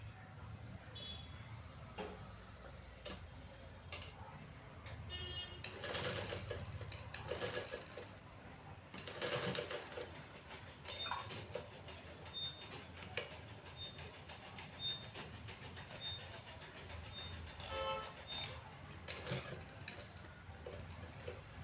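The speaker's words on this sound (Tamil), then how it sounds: "நான் இப்போ இதை ஸ்டிச் பண்ணி காட்டுறேன்" A sewing machine stitches a hook-and-eye strip onto a blouse, running in a steady mechanical whir with short bursts and pauses as the fabric is turned, at close range with a faint background hum.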